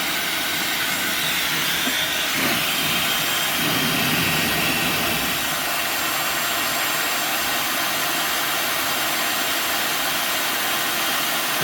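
A Dyson hair dryer set to maximum gives a loud, steady, broadband airflow roar that holds unbroken and close for the whole stretch, with no voices.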